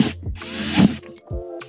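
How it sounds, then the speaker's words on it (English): A power drill bores holes through small plastic tackle box divider cards in a few short bursts, each whirring spin rising and falling, close up. "Flip it upside down, or it's up to you what size drill bit you use."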